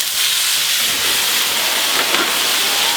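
Loud, continuous sizzling hiss as cognac hits 300 g steaks searing in a hot pan, a dense steady crackle filling the clip with no voices over it.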